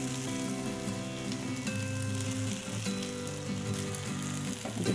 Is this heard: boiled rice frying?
yes